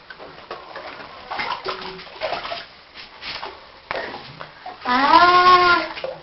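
Water splashes and sloshes in a bath during washing, with irregular small splashes throughout, and a voice rises in a drawn-out vocal sound near the end.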